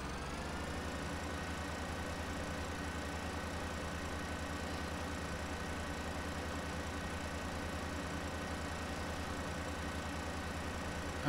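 A John Deere 864 baler's engine in the Farming Simulator 2013 game hums at a steady, even drone, a faint continuous mechanical tone with no distinct rise, running alone throughout.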